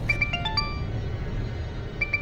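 A phone ringtone plays a short electronic melody of quick tones, pauses, then repeats briefly, over a low background rumble.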